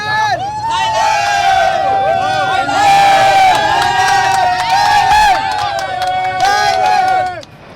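Large crowd of Thai football fans cheering and chanting in unison at an away match abroad, loud and close, with rising and falling sung chants over a dense roar of voices.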